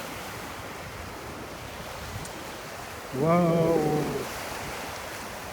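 Surf washes onto the beach at Savona, Italy, on a summer evening as a steady, soft roar mixed with wind, while a voice briefly exclaims partway through.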